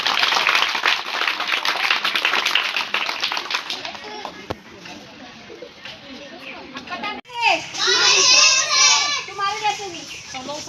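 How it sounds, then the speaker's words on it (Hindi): Schoolchildren clapping for a student in a village classroom, a dense burst of many small hands mixed with chatter, fading before a louder stretch of children's voices and noise. "ताली बजाओ उसके लिए।"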